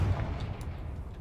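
A Confringo fire spell from Hogwarts Legacy detonates in a deep, booming blast that rolls off into a low rumbling decay, with no voices over it.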